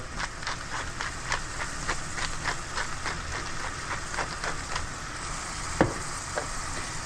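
Vegetables sweat in a hot pan for oeufs a la tripe, a dense, constant sizzle and crackle filling the whole stretch, with a rhythm of soft stirring pulses and one sharper clack near the end, no talking.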